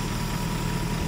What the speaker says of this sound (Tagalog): Talagang nagagalit lang yung makina.